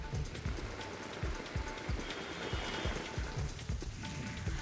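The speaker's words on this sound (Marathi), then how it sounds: "आज मुंबईमध्ये सुद्धा पावसाला सुरुवात झाली आहे." Steady rain falls over Mumbai as a monsoon shower begins, a dense continuous hiss with dripping and splashing close by, heard alone without voices.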